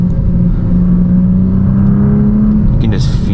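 An Audi S4 fitted with a sway bar kit is driven hard through corners, its engine drone loud and steady throughout, with a voice speaking over it and a brief higher whine near the end.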